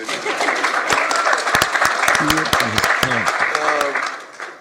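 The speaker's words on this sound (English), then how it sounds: "You can clap. It's okay." An audience applauds during a talk about Coach Prime's recovery from bladder cancer, sustained clapping filling the room while a voice speaks over it.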